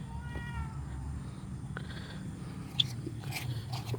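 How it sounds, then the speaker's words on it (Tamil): A cat meowing in short calls, with a few close, sharp meows standing out over a low rumbling background and scattered faint noises. "பூனை."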